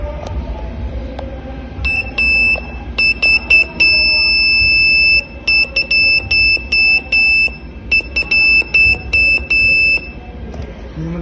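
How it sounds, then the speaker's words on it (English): A loud, sharp electronic buzzer beeping close by in rapid short pulses, grouped into uneven bursts with brief gaps between them. "Buzzer beep on button press."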